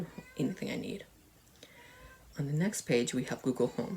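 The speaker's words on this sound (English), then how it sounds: "If you hear cat meows outside, that's my cat meowing outside." A cat outdoors lets out a few meows, faint and far off, mixed under a person speaking indoors close to the microphone.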